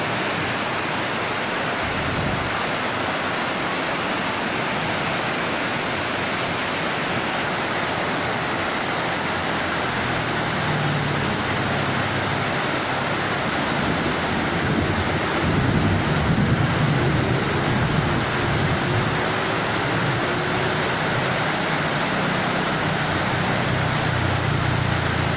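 A sudden rain shower pours down in a steady, dense hiss that holds evenly throughout, with no voices over it.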